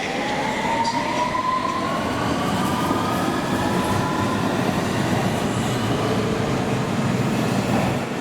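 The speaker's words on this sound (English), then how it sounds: "The train now approaching is to Edgware Road." A London Underground train rumbles loudly and steadily into the platform at Paddington station, with thin squealing wheel tones gliding over the heavy roar.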